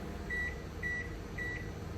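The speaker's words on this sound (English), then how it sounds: "2 minutes on the microwave." A microwave oven runs while making popcorn, giving a steady low hum with a faint whine pulsing about twice a second, quiet and even with no voices.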